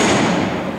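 At Alcatraz prison, a cell door clutch engages with one heavy metallic thud, loud and close, that decays quickly.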